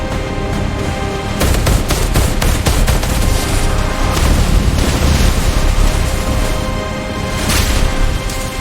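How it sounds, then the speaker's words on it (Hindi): AK-47 gunfire in a crime shootout among armed thugs: dense, continuous bursts of automatic fire with sharp cracks layered over loud booming rumble, sustained throughout. "अंदर 20 गुंडे AK-47 लेकर खड़े थे। शुरू हुई गोलीबारी।"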